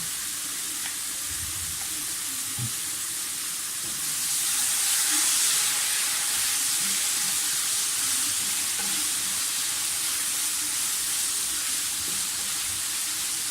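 Soy sauce and chili sauce hit a hot pan as an onion filling cooks, giving a continuous close sizzle and hiss that grows a little louder partway through and then holds steady, with no talking.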